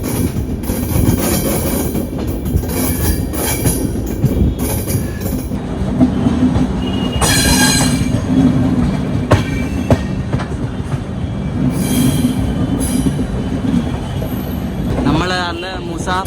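The Bagmati Express rumbles along the track near Samastipur junction, with loud, continuous wheel noise and rhythmic clatter over rail joints, plus occasional squeals and bangs. A voice is heard briefly near the end.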